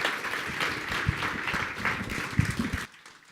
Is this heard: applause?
yes